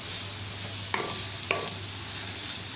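Sliced capsicum and carrot stir-fry for chicken pasta in a pan, a constant soft sizzle broken by two sharp utensil scrapes, close and moderately quiet with no talk.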